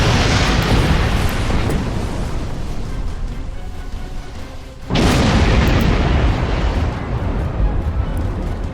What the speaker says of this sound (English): I destroyed the Orion ships